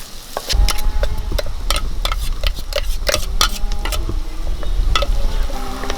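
Coconut paste is stirred into papaya thoran in a hot pan, with a steady sizzle under repeated scraping and clinking strokes of a spoon against the pan, loud and close, with no talking.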